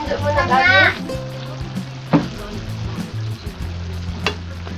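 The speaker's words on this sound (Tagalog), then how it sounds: "Haluin na natin po ito mga kachoy hanggang maluto talaga yung ingredients natin." Chicken adobo cooking in a pan and being stirred, with steady sizzling and clattering scrapes of the spoon, heard beneath a voice chattering over it, close and fairly loud.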